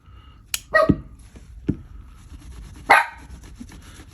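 A few sharp dog barks ring out close by, two quick ones early and another after a pause, with a softer yip near the end.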